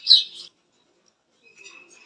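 Brief chirping calls from racing pigeons at a pigeon farm, a louder burst at the start, then a gap and softer, fainter calls toward the end.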